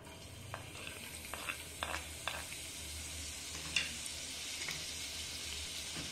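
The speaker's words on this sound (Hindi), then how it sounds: "अब हम इसमें बारीक कटी हरी मिर्च डालेंगे।" Finely chopped green chillies frying in two tablespoons of hot refined oil in a pan, a steady soft sizzle with occasional sharper crackles and pops, close by and without any voices.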